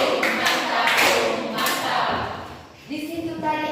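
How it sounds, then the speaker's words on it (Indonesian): Classroom applause for a student: a short burst of clapping from a group of pupils, moderately loud and close, mixed with voices and ending as the teacher starts talking again. "tepuk tangan untuk temannya"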